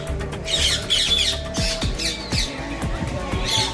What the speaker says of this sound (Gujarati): આ પહાડી પોપટ છે